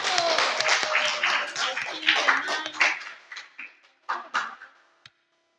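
A classroom of students claps for a presenting group, with dense, loud applause that thins into a few scattered, separate claps before stopping.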